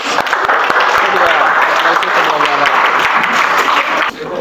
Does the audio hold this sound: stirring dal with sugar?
no